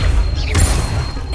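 Incendio, a fire spell in Hogwarts Legacy, goes off once in a loud, close burst with a crackling whoosh over a deep rumbling bed of combat noise.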